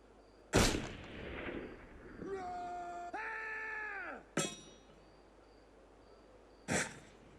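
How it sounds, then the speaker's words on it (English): Gunshots in the video game Assassin's Creed Unity: a few loud, sharp cracks spaced seconds apart, with a tonal whine between them and no speech. "Now, someone shooting?"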